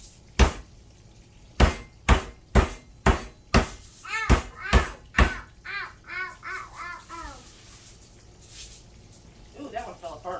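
Metal meat hammer pounding breaded pork chops in a run of sharp, evenly spaced thuds, followed by softer clatter and small squeaky sounds.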